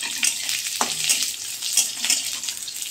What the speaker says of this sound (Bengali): কড়াইতে তেল দিয়েছি, তার মধ্যে রসুন দেব, শুকনো লঙ্কা দেব